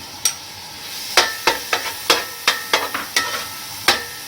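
Garlic-ginger paste hits about half a cup of hot oil in a pan while cooking meat. It sizzles with a steady hiss, and a rapid series of sharp scraping and clinking taps from stirring rings out close by.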